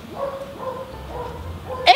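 A dog barks and yips in short repeated bursts, close by and moderately loud, with a sharp, brief sound near the end.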